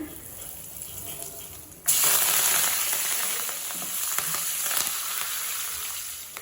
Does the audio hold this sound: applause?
no